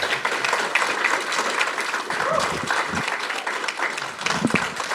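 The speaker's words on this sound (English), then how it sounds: "Please give her a round of applause." Applause fills a city council meeting chamber in Manvel as a longtime local food bank organizer is honored, a steady, moderately loud round of clapping from the room that continues throughout.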